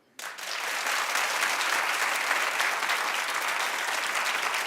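A studio audience on a daytime talk show breaks into steady, dense clapping that starts abruptly and holds at an even level throughout.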